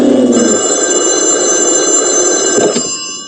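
An old-style telephone bell rings loudly in a Kazakh-dubbed cartoon, a continuous rapid metallic trill lasting nearly three seconds before cutting off.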